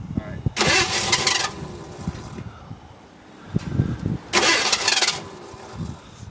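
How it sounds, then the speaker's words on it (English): Starter cranks on a 1986 Ford Mustang 5.0 convertible, two loud bursts of grinding that each last under a second, separated by a quieter gap filled with rumbling and shuffling, with people nearby. "Try to start it again."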